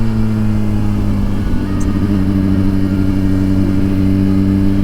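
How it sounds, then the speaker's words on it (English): A 2023 Suzuki GSX-R1000 sport motorcycle engine runs loud and close, a steady droning rumble with strong low harmonics and a slight rise in pitch, with no voices over it. "This bike just sounds so freaking good,"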